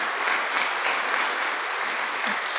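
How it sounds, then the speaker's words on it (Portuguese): Church congregation applauding during a worship service, a dense, even wash of many hands clapping at once, loud and continuous with no talk over it. "Dá um aplauso ao Senhor por isso."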